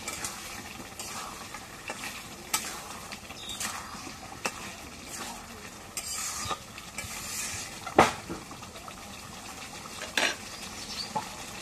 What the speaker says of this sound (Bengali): আলু দিয়ে একটু কষাই নিই।